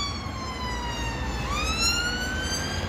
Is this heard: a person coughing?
no